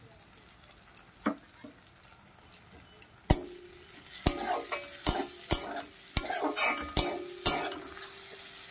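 Onion and tomato frying in a pan with green chillies added, a gentle sizzle under repeated sharp clinks and scrapes of a spoon stirring against the pan, growing busier toward the end, no talking.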